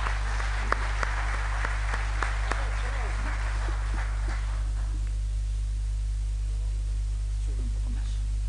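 Audience applause welcoming a singer onstage at an Asturian song contest, scattered claps over a loud mains hum that fade out halfway, leaving only the hum and faint noise.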